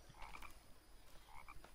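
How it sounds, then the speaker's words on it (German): Frog croaking in the survival video game The Forest: a few soft, faint croaks in two short bursts over a quiet ambient background. "Ach, doch ein Frosch."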